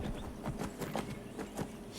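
Horse hooves clop along in a Skyrim modded game, the horse said to have a broken leg: a steady run of hoof beats at moderate loudness over a continuous game background, with no one speaking.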